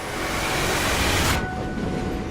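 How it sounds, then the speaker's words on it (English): A train rolls through the night toward the remote Russian town of Ivdel, a loud steady rumble and rush of wheels on rails that drops sharply in its upper hiss partway through. "The train rides through the night, 325 miles north, to the remote town of Ivdel."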